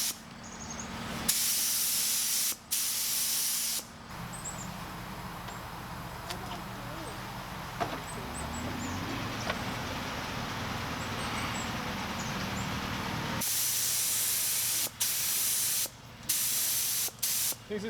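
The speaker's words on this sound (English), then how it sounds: "Now all that's left to do is to spray on some Varathane." Wooden patio lounge chairs being coated with Varathane finish from a spray can: steady close hissing bursts, a short one and then a long continuous spray of roughly nine seconds, with brief pauses and short spurts around them, and no talk.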